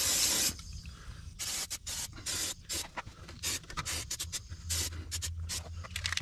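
Fluid Film rust protection sprayed from an aerosol can onto boom lift kingpins: a string of short hissing bursts of varying length with brief gaps between, close up, with no speech.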